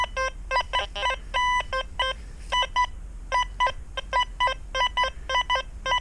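XP Deus 2 metal detector sounding a strong target near an old home in Bagdad, Tennessee: a run of sharp, clipped electronic beeps in an irregular stuttering rhythm, loud and close with no talk.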